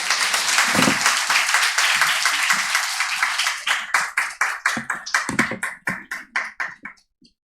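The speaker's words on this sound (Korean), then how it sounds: "우리 목사님을 환영하는 마음으로 박수로 모시겠습니다." A church congregation claps to welcome the pastor to a dawn service, steady crowded applause that loosens after a few seconds into sparser, distinct claps before stopping.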